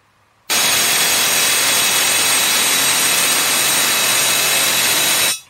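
A loud high-voltage electric discharge arcs inside a vacuum chamber just refilled with air, a harsh, steady roaring buzz that starts abruptly, holds at full strength for about five seconds, then cuts off.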